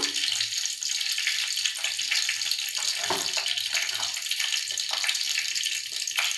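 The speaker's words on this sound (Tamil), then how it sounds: "கடுகு பொரியணும் கடுகு பொரிஞ்ச உடனே" Mustard seeds spluttering in hot oil in a pan for an oil-based brinjal kuzhambu, with a few fenugreek seeds added: a loud, steady frying hiss dotted with scattered small pops and crackles, no voices.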